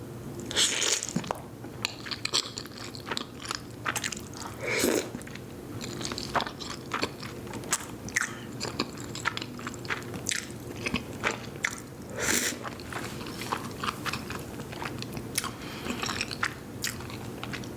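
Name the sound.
chewing spaghetti meatballs and fettuccine with Tabasco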